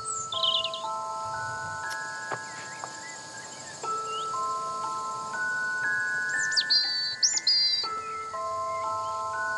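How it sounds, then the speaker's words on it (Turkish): Game birds call in an open hunting area with faint, sparse chirps and warbling notes, while soft musical tones play steadily underneath. "Av kuşları var. Duymuyor musun?"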